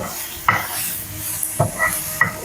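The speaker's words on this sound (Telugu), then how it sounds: "మస్తు ఫ్రై అవుతుంది కదా ఫుల్ పొగలు వస్తుంది" Tomato and dried red chillies fry in a smoking pan, a soft sizzle broken by three or four distinct scrapes and clinks of a spoon stirring against the pan.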